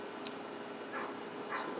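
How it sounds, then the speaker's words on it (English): A neighbor's dog barks a few times in the distance, faint yips rising over steady background noise during work on a used two-stroke Zama/Walbro carburetor. "If you heard that, that's probably the neighbor's dog."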